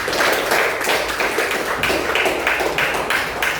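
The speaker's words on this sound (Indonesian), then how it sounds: "tepuk tangan semua" A classroom group claps hands together, loud and close, with rhythmic bursts of clapping that pulse in rough unison throughout.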